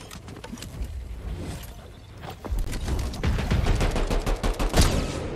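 Fortnite gunfire, a dense rattle of rapid shots that starts at moderate volume and grows louder and heavier partway through, with booming impacts near the end and no voices.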